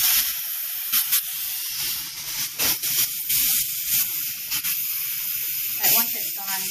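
Steam hisses out of an Instant Pot during a quick release, a continuous loud spray with sputtering bursts and faint kitchen clatter underneath.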